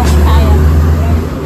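Dense traffic on a Dubai street, a loud, steady low rumble of many vehicles going by nearby, briefly overlaid by someone speaking.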